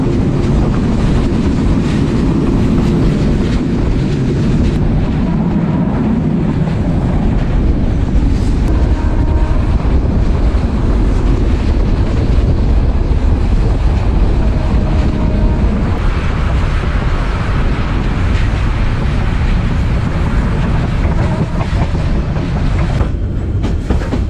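Kurigram Express passenger train running toward Dhaka, heard from inside as a loud, continuous rumble with a rhythmic clatter of wheels over rail joints and wind buffeting the microphone.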